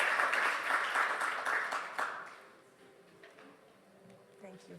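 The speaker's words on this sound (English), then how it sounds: "I want you to cheer and give him a round of applause for joining us today" Audience applause for the Ambassador of Colombia at a mine action conference, a fairly brief burst of clapping that fades out after a couple of seconds into quiet room noise with faint voices.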